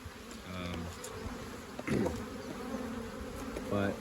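Honey bees buzz around an opened beehive during a hive split, a steady close drone with individual bees whining past at intervals, with no talk.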